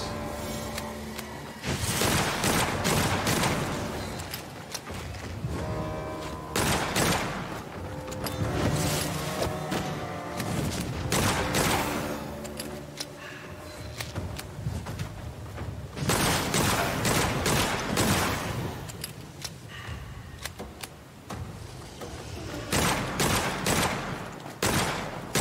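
Enemy gunfire in the video game Witchfire: dense, loud bursts of rapid shots in repeated volleys, close and almost continuous, mixed with other game effects.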